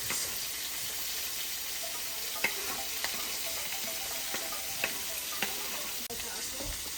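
Constant hissing sizzle of vegetables frying in a Presto electric skillet, close and steady, with a few light clicks and scrapes as they are stirred.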